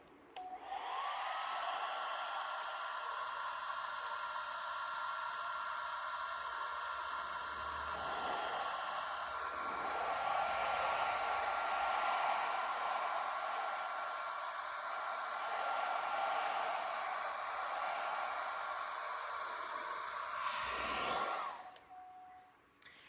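A hair dryer on its low heat setting blows steadily for about twenty seconds, close and even, while warming mustache wax, then clicks off at the end.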